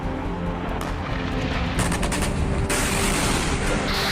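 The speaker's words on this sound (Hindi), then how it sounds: "बाखमुत की वीरान धरती रह रहकर ऐसे ही धमाकों से कांप उठती है।" Explosions and gunfire in war-torn Bakhmut during the Russia–Ukraine war, a dense, loud rumbling barrage with sharp cracking reports layered throughout, no voices.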